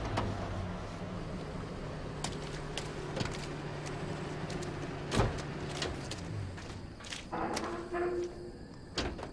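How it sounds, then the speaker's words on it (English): A car engine at night, a low steady hum with tonal bands that builds toward the end, broken by scattered clicks and knocks close by. "Can you hear the engine?"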